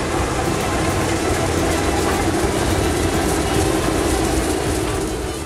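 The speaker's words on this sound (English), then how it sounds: "the rocky motion of the train" Steady rumble of a train rolling along the rails, a continuous loud clatter and roar with no pauses, heard from close by.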